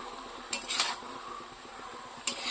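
A spoon stirs spiced curry in a pot, with two distinct metallic scrapes and clanks against the pot over a faint, steady background hiss.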